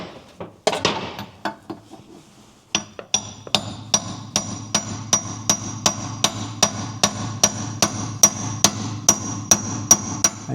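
Steady hammer blows tapping a 22 mm part out of a Racing Turtle toy during repair, a few scattered knocks first, then a regular run of sharp metallic strikes about twice a second, close and loud.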